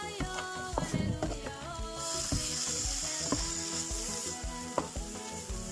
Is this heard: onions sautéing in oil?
yes